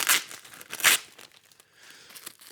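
Tape peeled off new bicycle bolts, two bursts of crinkly tearing and rustling close up, followed by quieter fiddling.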